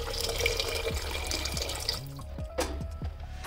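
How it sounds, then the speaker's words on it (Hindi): Warm water is poured into a pot of rice and vegetables, a splashing, trickling stream that thins into a few distinct drips and plops near the end, heard close up with no talking. "पानी मैंने थोड़ा सा गर्म कर लिया तो वो डाल रही हूँ।"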